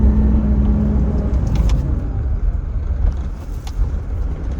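A Mitsubishi Pajero Sport SUV with an auto clutch drives along in second gear, its engine giving a steady loud low rumble with road noise throughout and no talk.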